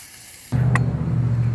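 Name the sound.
ground beef cooking, sizzling in pan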